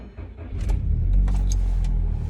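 Car starting to drive with a fully loaded boot: a low engine rumble swells and holds steady close by, with a few brief clicks and knocks layered over the drone.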